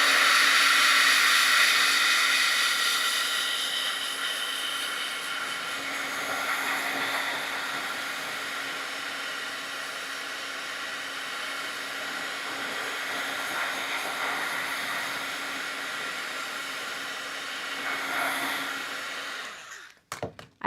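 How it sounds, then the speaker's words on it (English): A heat tool blows steadily over marker ink to dry it, a constant airy whir with a faint hum that runs unchanged for about twenty seconds before clicking off. "I'm going to hit this with my heat tool just to help it dry."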